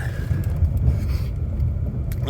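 A 2014 Chevrolet Impala Limited 9C1 police-package car engine rumbles steadily at low pitch as it is revved, a continuous vehicle drone with no talk.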